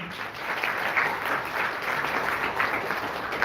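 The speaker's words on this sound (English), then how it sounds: "So yeah, good round of applause for Dhruv, please." A crowd at an achievers' meet gives a steady round of applause, dense clapping that holds evenly throughout from a sizeable audience in a hall.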